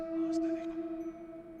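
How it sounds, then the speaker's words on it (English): A sad, slow song of a cosmic entity in the Pesterquest video game: two steady, sustained tones that hum evenly throughout, faint and alone. "You hear the sad song of some sort of cosmic entity."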